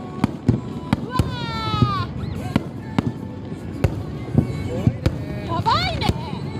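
Fireworks bursting over a fishing harbour at a summer festival, sharp repeated booms and crackles with rising whistles between them, loud and nearby, while a family talks and reacts over the display.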